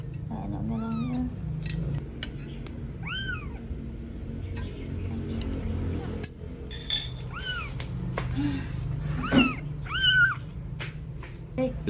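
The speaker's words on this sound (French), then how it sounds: "C'était un tout petit chaton." A tiny kitten stuck in a roof gutter gives repeated high, thin meows, several in a row, over a steady low background rumble.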